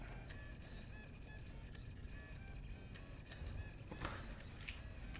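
A pen plotter machine draws with a steady, continuous mechanical whir and hum, faint and unbroken, with small ticks and a brief burst of movement noise near the end.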